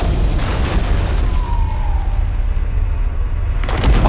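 Explosion cubes detonating in the puzzle game The Entropy Centre, a heavy booming blast with a rumbling low-end tail, followed near the end by another burst.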